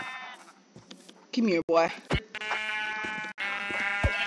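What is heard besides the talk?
sheep bleating in the video game Minecraft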